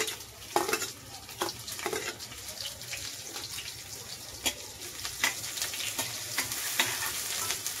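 Chopped onion and garlic sizzle in hot frying oil with a soft, continuous crackle, broken by sharp clinks and scrapes of stirring at irregular moments.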